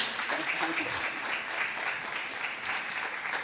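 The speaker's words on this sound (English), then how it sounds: "Good round of applause, please," Audience applause for a guest at a retirement living community event, a steady dense wash of clapping hands that keeps going without a break at moderate level.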